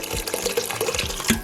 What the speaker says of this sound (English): So to this I'm gonna add 3 cups of water,